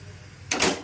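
A lid set onto a pan on the stove while semolina and jaggery kesari cooks, a single brief close metallic clatter over quiet kitchen background.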